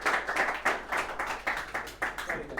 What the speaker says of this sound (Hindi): जोरदार तालियां हो जाए रविशंकर सर के लिए।